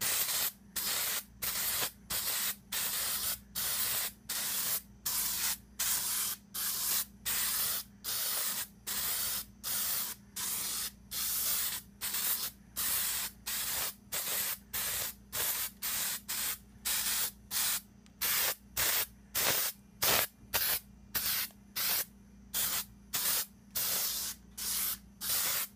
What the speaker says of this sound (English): So we got the rifle down, and we're ready to spray.